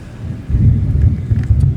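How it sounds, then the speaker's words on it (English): Thunder from an outdoor storm rolls as a deep, continuous low rumble that swells and lingers for nearly two seconds, mixed with wind buffeting the microphone. "And we have thunder right now too."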